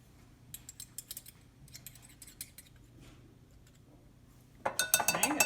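A metal measuring spoon clinking against a bowl or container as a teaspoon of cinnamon goes into gluten-free, dairy-free sweet potato mini muffin batter: light scattered close clinks, then a louder burst of clatter at the end, no talk.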